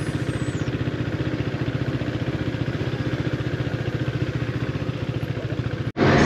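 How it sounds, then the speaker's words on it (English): Motorcycle engine idling close by on a Swiss mountain pass, with a steady, rapid low-pitched pulsing throb that runs continuously, followed by a brief sharp drop and a louder burst at the end. "A lot of motorcyclists up here"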